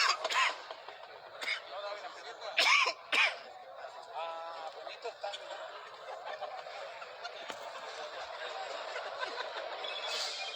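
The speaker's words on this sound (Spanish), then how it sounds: "Los diputados se comienzan a alejar de mí porque he comenzado a toser." A man coughs and clears his throat during a session of Guatemala's Congress, with a few sharp, close bursts near the start followed by quieter room noise and murmuring.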